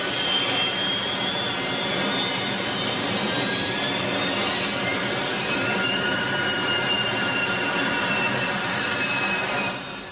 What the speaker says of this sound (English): the pilot gunned the jet's engines to keep the nose off the ground until the last moment